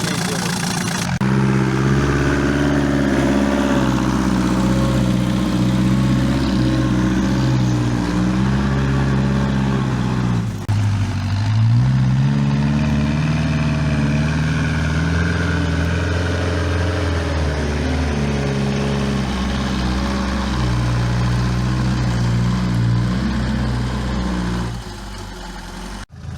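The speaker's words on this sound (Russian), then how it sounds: "Но трактор тянет спокойно." Homemade tractor engine running steadily while plowing manure and green manure into the soil, a continuous low, throbbing drone with a brief dip in pitch midway, loud and close and alone for almost the whole stretch.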